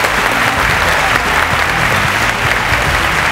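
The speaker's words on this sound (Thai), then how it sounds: "ขอเสียงปรบมือหน่อยนะครับ" A studio audience of about a hundred at the TrueInnovationAwards final applauds. Dense, loud, continuous clapping fills the whole stretch without a break.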